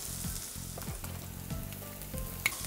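Garlic, lime leaves and ginger sweating in a hot pan with a little oil and onion, a soft close sizzle with a low hum in the background and one sharp clink near the end, no talk.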